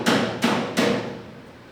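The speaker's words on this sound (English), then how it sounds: "I'm just gonna talk over the hammering at this point" Hammer striking a Porsche 911 body panel during a backdate project, with three sharp metallic blows about a third of a second apart, each ringing out and fading, loud and close.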